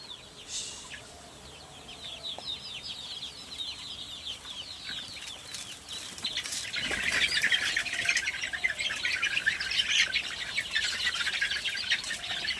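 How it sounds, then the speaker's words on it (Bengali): Local chickens lined up at feeding time, clucking and squawking in a busy chorus that swells louder halfway through, with scattered chirps nearby and no talking. "দেখুন কি সুন্দর আমাদের লোকাল মুরগি, সব লাইন ধরে দাঁড়িয়ে আছে"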